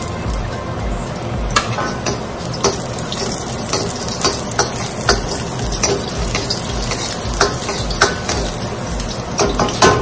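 Ginger and clams sauté in a tablespoon of smoking-hot fresh oil, a steady loud sizzle running throughout with frequent sharp clinks and scrapes of a utensil against the pan.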